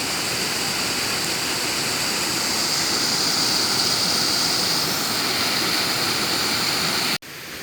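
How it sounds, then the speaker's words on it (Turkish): Stream water pouring down at a mountain mill, a loud continuous rushing roar close by that holds steady before cutting off abruptly near the end. "şu suyun aşağı tarafa doğru döküldüğü yer"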